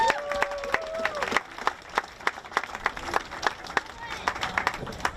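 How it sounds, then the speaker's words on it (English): Sparse, uneven clapping from a crowd at a high school football game ceremony, with separate sharp claps scattered across several seconds and voices murmuring beneath. "If we could give them a round of applause"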